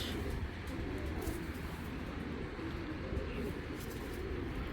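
Racer pigeons of a foreign bloodline cooing nearby, a low, continuous throaty murmur under a faint background hiss, steady throughout with no clear breaks.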